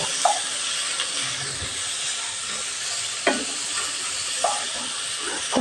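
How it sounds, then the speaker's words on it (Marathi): Onion sautéing in a pan for a sea fenugreek vegetable dish, a steady close hiss and sizzle with a few soft scrapes of stirring. "आपला कांदा थोडा परतून झाला की आपण त्याच्यावर टॉमॅटो टाकणार आहोत"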